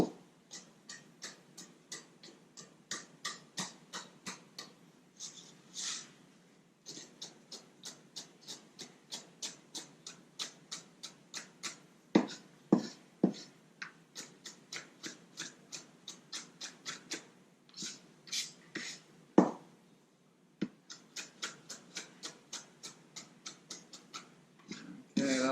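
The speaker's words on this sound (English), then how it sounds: "So this is going to be finely cut. So you might mince it for a little bit longer than usual." A knife mincing mango salsa ingredients on a cutting board gives a long run of quick, steady chopping taps, close and crisp, with brief pauses and a few louder strikes.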